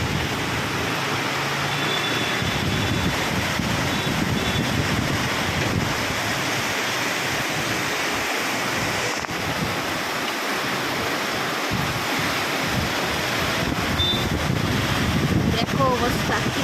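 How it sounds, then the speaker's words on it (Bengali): Heavy rain driven by strong wind roars as a steady, dense wash that fills the whole scene, with a voice speaking at points. "হঠাৎই বৃষ্টি নামলো, হাওয়া দিয়ে বৃষ্টি পড়ছে রীতিমতো"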